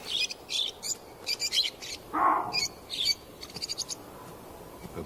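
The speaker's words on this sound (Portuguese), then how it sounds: "Periquitos se abrigam na sombra das rochas." Parakeets sheltering among rocks chirp in quick, bright bursts, short repeated calls at close range with brief gaps, plus one lower hoarse call in the middle.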